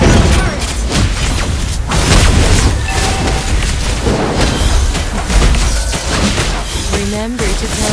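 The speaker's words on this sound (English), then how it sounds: "You destroyed the turret!" Explosive booms and bursts from a turret being destroyed in the Mobile Legends mobile game, loud and continuous amid dense game effects, with a voice talking over the action.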